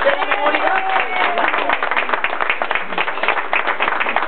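Guests clapping at a first birthday party, a lively burst of close, sharp handclaps mixed with excited voices and chatter that lasts throughout.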